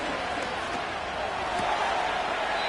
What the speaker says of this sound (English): The noise very loud from the crowd